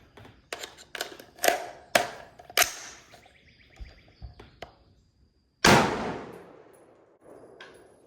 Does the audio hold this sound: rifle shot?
yes